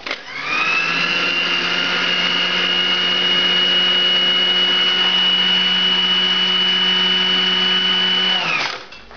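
A food processor grinds garlic and flour in one steady, loud, high-pitched motor whine that holds for about eight seconds and then cuts off, with no talking.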